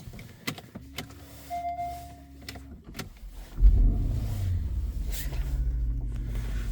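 Inside a Porsche Panamera Turbo S, a few clicks and a short electric motor whir come first, then the engine fires with a loud burst and settles into a deep, steady idle rumble.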